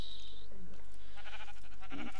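Sheep bleating in the Minecraft video game, a couple of short nasal bleats close up, with faint game sounds around them and no talk.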